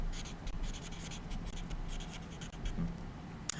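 A pen scratches steadily as a geometry equation is written out by hand, giving close, continuous scribbling strokes with short pauses and a soft tap near the end.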